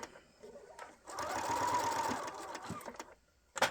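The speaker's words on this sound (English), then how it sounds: "Sew across the bottom, 1/4 inch to the edge." A sewing machine stitching binding across the bottom of a mini art quilt, a close, steady whir of about two seconds between quieter handling noises and a sharp click at the end.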